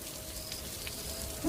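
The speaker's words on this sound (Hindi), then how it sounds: "बारिश इतनी तेज थी" Heavy rain falling at night outside a school in a forest, a steady even hiss of downpour throughout, moderately quiet and without voices.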